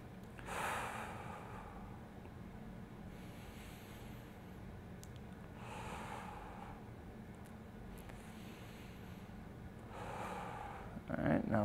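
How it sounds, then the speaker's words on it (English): Slow, deep breaths drawn and released during a hook-lying isometric internal rotation exercise, about three long breathy swells spaced several seconds apart over a steady low background hum, with no talking. "Go about 3 more breaths."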